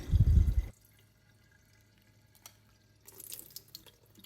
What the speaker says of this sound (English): Just continue rinsing for a little bit to make sure I get off most of the debris.